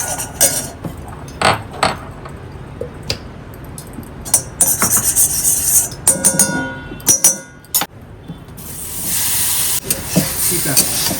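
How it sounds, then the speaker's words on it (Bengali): Boiled broccoli sautés with paneer, black pepper and black salt in a pan, giving a soft hiss and sizzle broken by clinks and scrapes of a utensil stirring, with brief bursts of louder frying. "এটা একটুখানি না ওই গোলমরিচ আর বিট নুন দিয়ে সটে করে নেবো পনির দিয়ে।"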